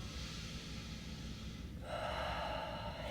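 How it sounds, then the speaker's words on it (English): Deep breathing during a stretching routine, a long soft breath followed by a fuller, louder exhale, close and alone with no speech. "Inhale and exhale."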